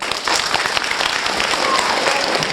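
An audience at a youth fashion event applauds, giving a dense, steady burst of many hands clapping at once that carries through without a break.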